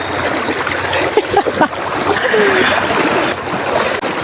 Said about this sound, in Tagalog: Ayan, patawid tayo ng ilog